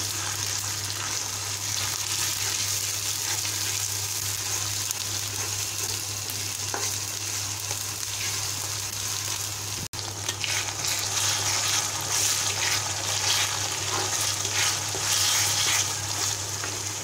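Ginger, garlic and cumin paste sizzles steadily in a pan for a beef curry while being stirred, with a constant dense frying hiss and a brief scrape near the middle, and no talking.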